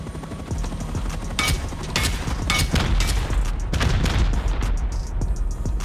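Rocket explosions from a base raid in the survival game Rust boom repeatedly, dense overlapping blasts and debris rumbling loudly and continuously with sharp bursts at irregular intervals, no talking.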